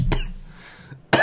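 Two sharp coughs, one at the start and another near the end, with a quiet pause between them, close to the listener.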